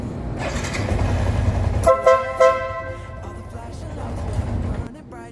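A Honda Sniper 150 motorcycle's short, shrill compact horn honks a few times in quick bursts over a low idling engine, close by, with brief talk around it.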